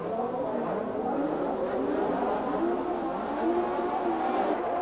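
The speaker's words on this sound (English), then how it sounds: "Green light, and Piquet makes a superb start." 1983 Formula 1 cars roaring away at the start of the race at the Österreichring, loud high-pitched engines rising and overlapping in a continuous wall of sound.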